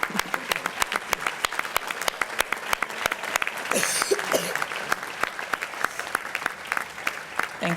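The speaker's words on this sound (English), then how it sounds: "Let's give them a round of applause." An audience at a gala applauds student chapters, a sustained round of clapping from a large room with crisp individual claps and a brief swell of crowd noise midway.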